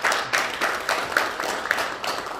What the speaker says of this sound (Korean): 우리 홍기용 후보도 더 잘하는 뜻에서 박수 한번 부탁드리겠습니다